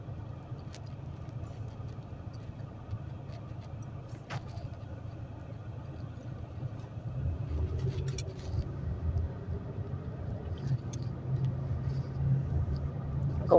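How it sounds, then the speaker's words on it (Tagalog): Steady, low rumble of street traffic with cars passing slowly in a congested city area, the hum swelling and growing louder midway through, with no talking. "Nandito na naman kami sa traffic"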